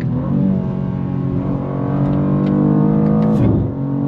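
A 2023 BMW M2, a rear-wheel-drive sports car, pulls hard under full throttle. Its engine gives a loud, close, steady rising drone that dips briefly around a gear change and then climbs again.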